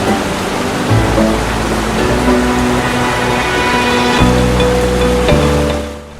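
Gaumukh waterfall in Songadh, swollen in the monsoon, pours over rocks in two parts, making a steady, dense roar of rushing water, close and loud throughout, with a faint tonal layer beneath, before it fades at the end.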